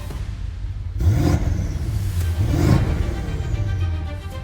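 A BMW M550i fitted with catless downpipes revs outdoors, giving two loud rising-and-falling engine swells over a steady rumbling idle.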